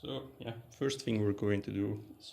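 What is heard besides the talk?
No everyday noise stands out behind the speech.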